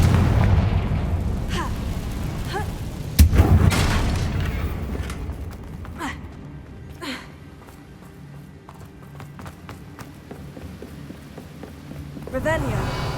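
A Confringo fire-blast spell goes off in Hogwarts Legacy, one sharp booming burst partway through amid a busy backdrop of hoofbeats, rain-like hiss and other game noise.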